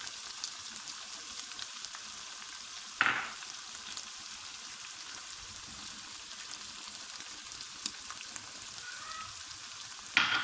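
Achar gosht fries steadily in a pot with a continuous bright sizzle as spices and salt are added, with a couple of sharp metallic scrapes from stirring.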